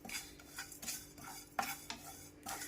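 Cloves, black pepper and fenugreek seeds being dry-roasted and stirred in a pan, giving soft scraping and clinking strokes with a few sharper knocks, close and fairly quiet, with no voices.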